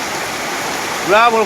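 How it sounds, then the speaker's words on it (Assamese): Heavy rain pouring steadily into a courtyard at night, a dense continuous hiss throughout, with a person briefly speaking over it at the end. "চোতালত পুৰা বৰষুণ দেখাই আছোঁ"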